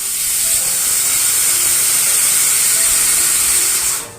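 A pressure cooker cooking chana dal lets out a loud, steady steam whistle, a close hissing rush that holds for about four seconds before cutting off.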